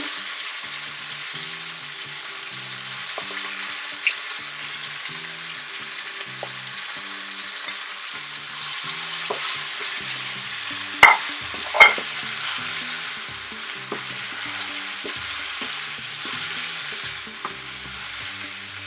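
Beef liver frying in a pan, a steady broad sizzle throughout with occasional stirring clatters and a couple of sharp utensil knocks near the middle, no voices.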